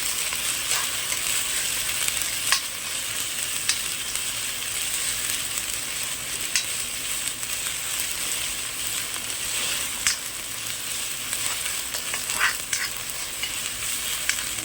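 Onions and green chillies sautéing in hot oil for chicken chukka, a steady close sizzle and fry broken by occasional scrapes and taps of a stirring spoon in the pan, with no talk.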